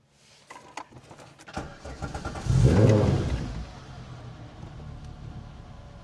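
A VW Golf MK2 cranks briefly with a few clicks, then catches and fires up into a rising rev that settles into a steady idle, heard close by.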